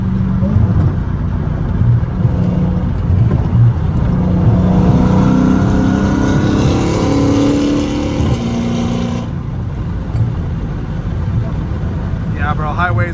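Straight-piped Dodge Challenger Hellcat Redeye cruising on a highway at the speed limit, a loud steady engine drone with road roar throughout and a person talking over it.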